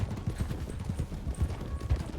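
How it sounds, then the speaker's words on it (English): Horse hooves clip-clop in the RedM video game, a close, steady rhythmic run of low thuds that continues without pause. "my horse decided that he was gonna slow down"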